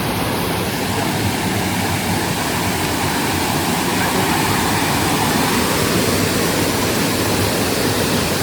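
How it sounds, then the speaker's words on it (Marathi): A small stream near a home in the Konkan countryside flows steadily, a dense continuous rush of water close by with no pauses or voices. "हा बघा ओढा एक नंबर माझ्या घरच्या जवळच आहे"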